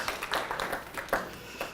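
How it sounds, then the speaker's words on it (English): A small audience claps briefly during a tech talk, a few scattered hand claps over about two seconds, fairly close and moderately loud, with no talking over it. "Thank you for the clapping."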